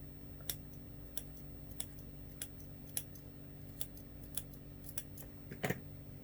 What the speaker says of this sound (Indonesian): jangan lupa untuk potong lagi di bagian lengkungan